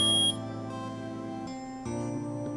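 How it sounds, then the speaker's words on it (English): Electronic beeping tone from the video game Phoenix Wright: Ace Attorney, a brief sharp chirp followed by a sustained buzzing electronic tone that shifts pitch twice, clear and alone. "Beep!"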